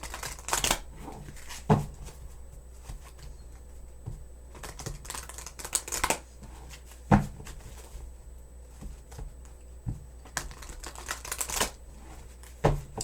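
Tarot cards are shuffled and handled in scattered bursts of crisp riffling and tapping, fairly close, with quieter pauses between.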